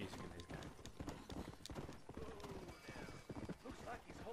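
Hooves clip-clop in Red Dead Redemption as a horse moves over ground, mixed with game music and a whinny, while someone talks over the faint game audio.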